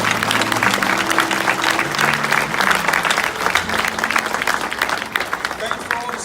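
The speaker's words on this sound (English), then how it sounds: "Now give yourselves a round of applause." Audience applause during an education award acceptance speech: a full room claps steadily and loudly, with cheering voices and whoops rising over the clapping throughout.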